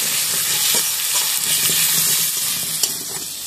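Potato pieces fry loudly in hot oil, a dense steady sizzle close by with faint scraping as they are stirred around the pan.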